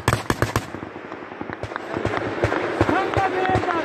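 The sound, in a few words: gunfire during combat in the 44-day Karabakh war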